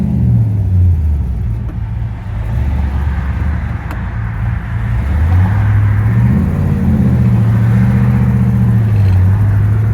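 A 1968 Pontiac GTO engine rumbles steadily while driving on the road, a loud, close, continuous drone that rises in pitch as the car accelerates near the end.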